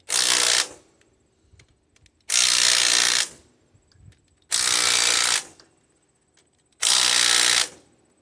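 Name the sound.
20 volt Hyper Tough impact driver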